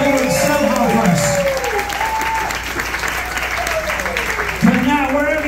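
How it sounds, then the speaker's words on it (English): Audience applause for a live orchestra in a cruise ship's sky lounge, a dense sustained roar of clapping from a crowded room with cheering voices mixed in throughout. "can we have a round of applause for our orchestra doing double duty tonight?"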